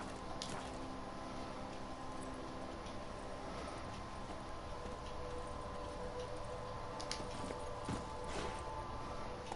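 Horse hooves clip-clop at a steady trotting rhythm on the ground in The Witcher 3, a continuous mid-distance patter over ambient game sound, with no voices.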